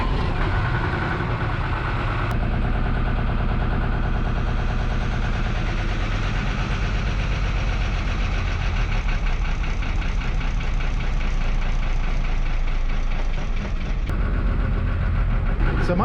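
A 1975 Chevy 6BB1 diesel engine idling cold, a loud, steady, close-up rumble with an even knocking pulse that runs unbroken throughout.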